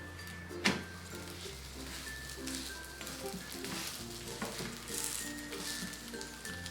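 Kerala parotta cooks on an oiled hot pan, giving off a steady close sizzle and fry crackle that continues alone without talk, with faint tonal background music underneath.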